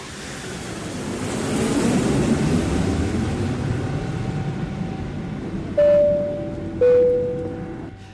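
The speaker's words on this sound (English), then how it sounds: "We're currently making our final descent into Incheon International Airport." Airliner cabin on final descent into Incheon International Airport, a broad, steady roar of engine and airflow that swells and eases, followed by two bright chime tones near the end.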